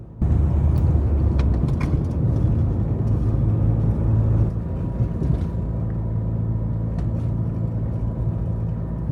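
A car drives along a residential street past a house, heard as a loud, steady engine and road rumble from inside the vehicle, easing slightly partway through.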